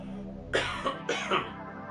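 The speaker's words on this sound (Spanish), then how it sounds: "Acabo de toser" Two short, close coughs, each a harsh burst following a quiet pause, from a single person with no one talking.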